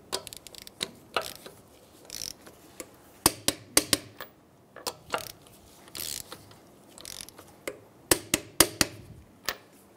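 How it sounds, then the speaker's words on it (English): Torque wrench ratcheting as lug nuts on a 2007-2015 Mazda CX-9 are tightened to spec in a crisscross pattern during a front brake job: clusters of sharp, close mechanical clicks in uneven bursts, with quieter handling noises between them. "we're going to go ahead and torque down our lug nuts"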